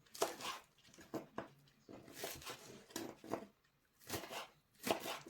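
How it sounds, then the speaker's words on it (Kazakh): A knife chops onion on a cutting board in short bursts of quick, crisp cuts separated by pauses, close and fairly quiet. "Пиязымызды тураймыз."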